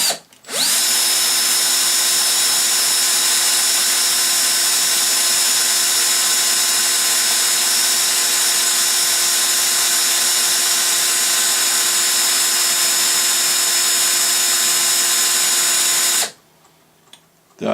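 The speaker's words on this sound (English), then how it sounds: "I might spin this on the drill for a little while actually now" An electric drill spins an engine part continuously at a steady high whine for about sixteen seconds, loud and close, then cuts off abruptly.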